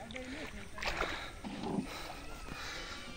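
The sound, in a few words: fishing boat approaching on the Gorai River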